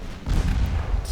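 A warship's heavy guns roar in a naval broadside in Ultimate Admiral Dreadnoughts, a heavy cruiser battling a battleship; one deep, rumbling salvo swells after a quarter second and sustains loudly to the end.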